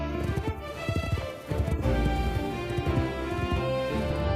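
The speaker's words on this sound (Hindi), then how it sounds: "वह अपने घोड़े पर सवार होकर अंधेरे जंगल में चली गई" A cartoon rider gallops away on horseback into a dark, snowy forest. Steady clip-clop hoofbeats run throughout, mixed with music, with no talking.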